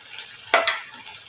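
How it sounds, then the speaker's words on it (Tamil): Onion, chilli and tomato sautéing in hot oil with cumin, a steady soft sizzle close by, with two quick stirring scrapes in the middle. "இப்போ இதையும் சேர்த்து நம்ம வதக்கிக்கலாம்"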